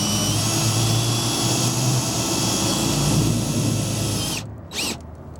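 Power drill whines steadily as it drives a screw into a glued screen door frame, a loud continuous motor tone that cuts off near the end, followed by a brief second burst.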